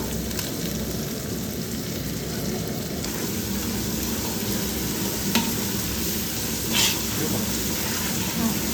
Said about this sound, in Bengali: লঙ্কাটাও এর কষিয়ে নেওয়া হচ্ছে